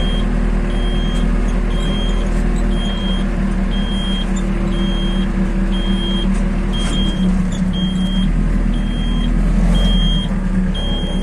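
A Japanese Iseki mini tractor works the soil with a 1.7 m rotary tiller. Its engine runs steadily and loudly throughout, with a repeating electronic beep sounding at regular intervals.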